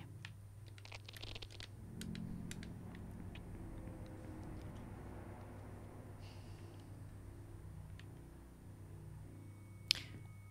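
Light keyboard typing, scattered soft clicks and taps at close range, faint and intermittent over a low steady hum.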